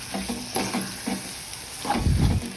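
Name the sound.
stirring tomato into frying poppy seed curry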